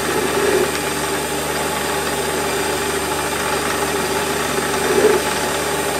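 Small hobby lathe running steadily in a home workshop shed while a burr is removed from a turned part, a constant mid-pitched mechanical hum with faint tool contact swelling briefly near the start and again around five seconds.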